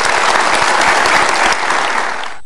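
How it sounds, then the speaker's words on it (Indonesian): A studio audience bursts into loud, sustained applause for two guests on an Indonesian political talk show, the clapping dense and close before tapering off at the end. "boleh dikasih tepuk tangan untuk dua tokoh ini"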